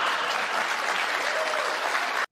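A crowd applauds loudly at a televised CNN town hall with Donald Trump, a dense, continuous ovation that stops abruptly at the end.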